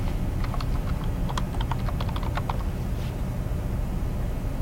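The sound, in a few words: typing text on a computer keyboard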